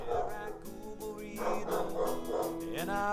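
Dogs bark and yip in a short rapid burst of high, excited calls, with some whimpering, close by and fairly loud, and nobody speaking over them.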